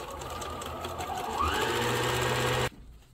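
A PFAFF Expression 2036 sewing machine runs a straight stitch, a steady close mechanical whir that rises slightly in speed midway and then stops abruptly, with no voices.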